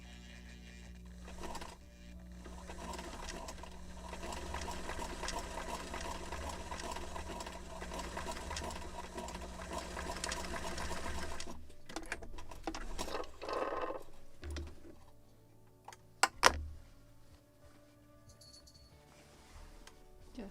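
A sewing machine runs steadily for several seconds stitching the seam of a model ship sail, a close mechanical whir that then stops, followed by scattered handling clicks and a sharp knock.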